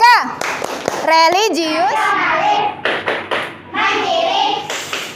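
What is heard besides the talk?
class clapping a rhythmic PPK clap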